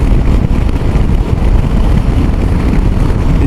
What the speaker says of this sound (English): We've got the usual wind noise. We're doing 70 mile an hour